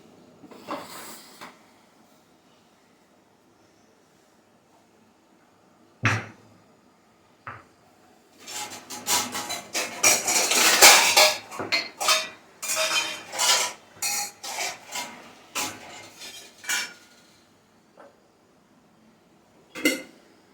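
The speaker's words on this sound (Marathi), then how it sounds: "आता मी पहिल्यांदा खजूर किनी फोडून घेते दगडामध्ये खलबत्त्यामध्ये बिया काढून घेते" Dried dates crushed in a stone mortar with a pestle: a few sharp knocks early, then a dense run of grinding, scraping and pounding strikes, tapering into scattered taps.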